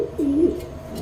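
A Lahori Sirazi pigeon, a breeding bird with feathered feet, gives one clear, close coo, a low rolling call rising and falling, over a steady background hum.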